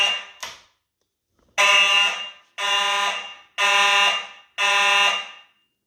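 A Simplex electro-mechanical fire alarm horn sounds during a fire alarm system test: two short blips, then four loud, harsh blasts of about a second each with brief gaps, close and with no voices.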